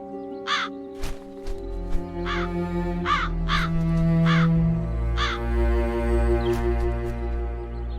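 Crows caw in The Dark Eye: Chains of Satinav, six or so loud, close calls spaced a second apart over a sustained, droning game music bed.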